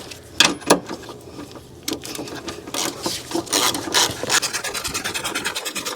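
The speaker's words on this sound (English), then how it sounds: "sometimes I just like the feel of a regular ratchet" A hand ratchet tightens the bolts holding the electric fan on the cracked radiator of a Chevrolet Silverado 1500 with the 5.3 Vortec, heard as a close, steady run of rapid clicking strokes after a few louder knocks.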